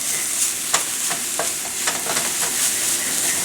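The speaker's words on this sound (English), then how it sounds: "So now just going to saute these a little bit" Sweet potato leaves sauteing in a pan give a steady, close sizzle and hiss, broken by scattered scrapes and taps from stirring; no one speaks.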